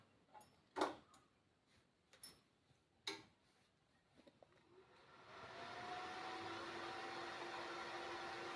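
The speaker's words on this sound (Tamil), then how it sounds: "இப்போ அதே 2200 வாட்ஸு கிணத்து மோட்டரை வந்து நம்ம ஏசியில் ரன்னிங் பண்ணி பார்க்கலாம்" A 2200-watt open-well pump motor, run on AC power from a solar panel setup, starts after a few scattered clicks and settles into a steady, continuous whirring hum with a faint rising whine that holds to the end.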